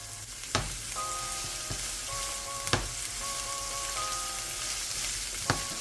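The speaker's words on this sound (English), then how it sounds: "now I'm going in with the onions. I'm going to let that saute a little bit before I add the garlic to it." Onions sauté in a pan for a vegetable stir fry with a soft, steady sizzle. A few sharp utensil taps land over it, along with some faint, brief tonal beeps in the background.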